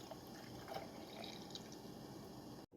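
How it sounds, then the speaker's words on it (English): Milk is poured into a glass in a kitchen, a quiet steady trickle and splash of liquid that runs evenly before cutting off abruptly near the end, with no voices. "Now I take my glass and add my milk to it."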